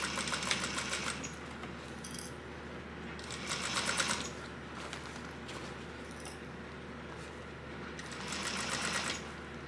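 A sewing machine back stitching a 3/8 inch seam, its steady mechanical whir running in several short bursts with brief pauses between, close and fairly quiet.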